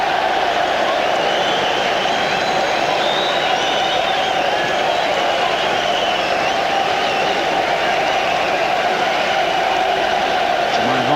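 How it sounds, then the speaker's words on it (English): Ironic applause from home supporters at a Derby County versus Wolves football match, a dense, steady roar of clapping and crowd noise filling the stadium throughout. "Some ironic applause for the linesman who gave that"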